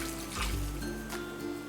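Boiling water pours from a kettle over instant ramen noodles in a container, a short, close, steady liquid stream lasting under two seconds.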